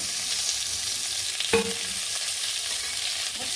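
Small native tomatoes hit hot oil in a pan and fry with a steady, dense sizzle throughout. A brief clatter sounds partway through, and no one speaks.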